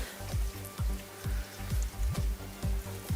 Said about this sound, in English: water pouring down my window, as if someone has poured a bucket on it